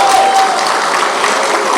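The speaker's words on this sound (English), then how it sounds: "Can we have a big round of applause for both of them?" A gala audience breaks into loud, dense applause, steady clapping filling the room throughout with no voices rising above it.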